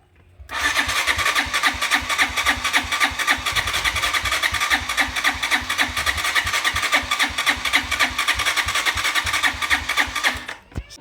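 A Mitsubishi Pajero with a 4M40 diesel engine cranks briefly, starts and then runs at a steady, loud idle with a rapid rhythmic clatter that continues for about ten seconds before cutting off.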